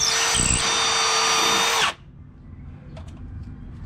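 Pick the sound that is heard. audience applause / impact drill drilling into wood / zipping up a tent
impact drill drilling into wood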